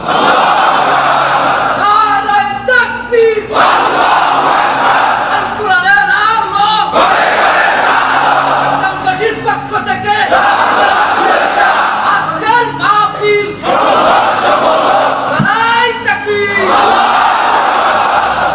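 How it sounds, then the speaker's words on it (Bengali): A large crowd at an Islamic sermon gathering shouts the takbir, Allahu Akbar, in unison. About five loud, rhythmic bursts of massed voices rise over continuous crowd noise. "তাকবীর পড়ুন, আল্লাহু আকবার।"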